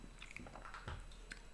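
A dog gnaws on a chew stick close by, giving soft irregular crunching and biting sounds with no talk over them.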